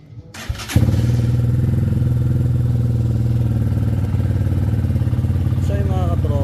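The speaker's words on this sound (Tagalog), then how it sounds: "i-try naman natin yung kanyang engine" A Titan 250fi motorcycle starts with a short clatter and then settles into a loud, steady idle, its even thumping pulse running close up and alone for several seconds.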